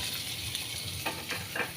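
Vegetables frying in a pan for a curry give a steady, soft sizzle throughout, with a few faint metallic scrapes of stirring near the end.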